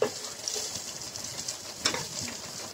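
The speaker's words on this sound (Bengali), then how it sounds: "রসুনগুলো একটু লাল হওয়া পর্যন্ত আমি ভেজে নিব" Garlic cloves frying in mustard oil with nigella seeds and a dried red chili give a steady, close sizzle, with occasional scraping stirs breaking through the hiss.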